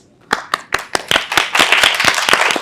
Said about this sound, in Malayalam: ഒരു വലിയ കൈയടി